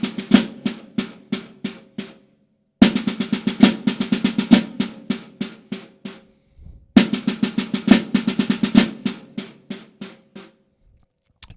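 A snare drum plays three bursts of quick sticking patterns separated by short pauses, with accented hits and rolling doubles, close and dry.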